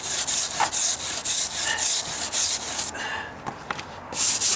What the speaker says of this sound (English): Just run it on the side with my putty knife.